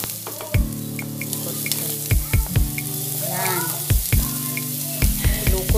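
Onions for adobong manok sizzle and fry in a pan, a continuous crackle broken by several sharp clanks of a utensil against the cookware and a brief burst of stirring near the middle.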